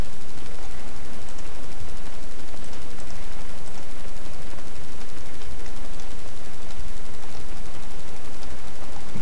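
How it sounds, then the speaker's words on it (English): Musket volleys from a Civil War battle in the video game Scourge of War, a dense, continuous crackle of distant massed gunfire rolling on without pause, with no voices over it. "More gunfire getting poured into them."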